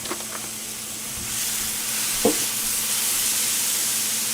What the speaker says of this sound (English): just putting a little bit of veggie stock here